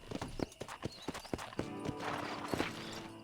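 Rhythmic horse hoof clip-clops in Red Dead Redemption tap in a quick steady pattern, then settle into a softer scraping shuffle with a brief whinny-like tone near the end.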